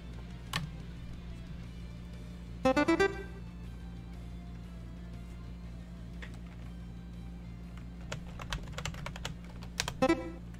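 Computer keyboard typing during a Scribbler.io drawing game, short scattered bursts of quick key clicks separated by pauses over a low steady hum.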